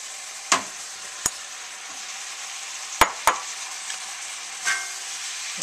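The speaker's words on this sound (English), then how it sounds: "We'll give that a stir." Bok choy stir-fries in a hot pan for chicken lo mein, a constant close sizzle punctuated by several sharp utensil clacks and stirring scrapes, with no one talking.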